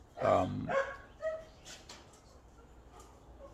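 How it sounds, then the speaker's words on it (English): A neighbour's dog barks a few times close by, then quieter yaps trail off into near silence; a brief voice is heard at the start. "That's the neighbour's dog saying hello."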